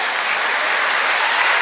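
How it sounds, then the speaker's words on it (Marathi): A loud, dense wash of applause from a large crowd at a birthday celebration, continuous and close with no breaks or talking. "जोरदार टाळ्या हो द्या"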